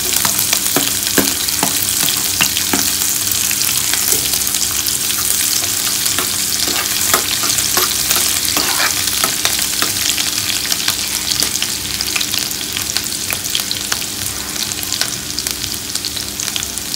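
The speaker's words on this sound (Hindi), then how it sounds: "जब ये थोड़ा क्रैक हो जाए तब हम इसमें हरी मिर्च, लहसुन डाल देंगे।" Green chillies and garlic sizzle in hot oil in a pan while a potato and long bean sabzi is being cooked, a loud steady crackle with scattered stirring clicks throughout.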